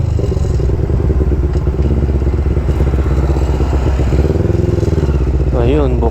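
Old school motorcycles run close by, a loud continuous engine rumble with clattering mechanical noise throughout, and a voice briefly speaks near the end.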